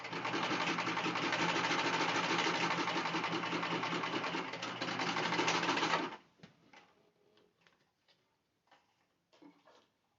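A sewing machine stitches a car trash bag with pockets, its rapid needle chatter running loud and steady for about six seconds, including backstitching, then stopping abruptly, followed by faint handling clicks and rustles.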